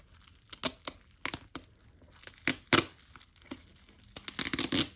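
Plastic wrapping being torn and crinkled off a Bird ov Prey oracle card deck, in bursts of sharp ripping and crackling close to the mic, with pauses between pulls.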